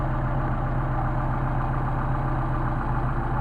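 A Mercedes 190SL engine with Solex carburetors idles at 750 RPM, a steady, even low rumble recorded close by with no change in pitch or rhythm throughout.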